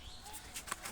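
Pet pigeons near a tin roof, with soft wing flaps and faint cooing bird sounds, quiet and brief.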